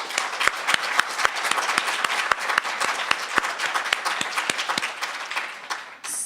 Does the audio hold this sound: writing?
no